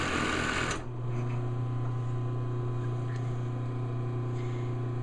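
Sewing machine stitching two skirts together while the fabric is fed through by hand, for a bellydance costume made from a store-bought dress. A short burst of noise gives way to a steady, even motor hum that runs close and continuous.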